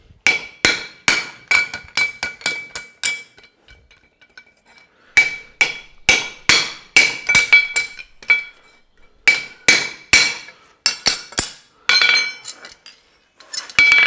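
Hammer blows ring out on an anvil as a Mustad reverse horseshoe is forged, a steady run of sharp metallic strikes with a bright clang, a short pause, then more rapid hits close by.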